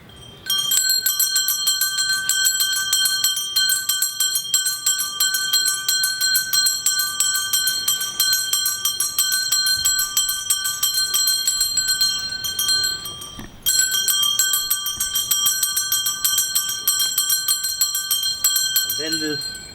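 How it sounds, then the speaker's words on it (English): Himalayan shaman ritual bells ring out with bright, sustained metallic tones, struck again partway through so the shimmering resonance restarts and lingers, close and fairly loud. "I'll show you this other set of bells."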